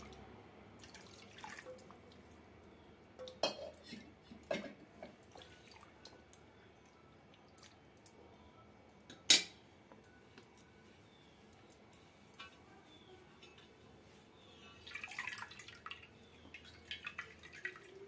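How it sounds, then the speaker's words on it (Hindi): Freshly made chhena for rasgulla is swirled and rinsed in clean water in a kitchen, giving quiet scattered drips, splashes and wet handling sounds with a few louder knocks. "इस तरीके से चला चला के धो लेना है साफ पानी से"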